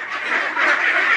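A flock of young ducklings quack together in a dense, continuous chorus, loud and close, overlapping calls with no pause and no voices.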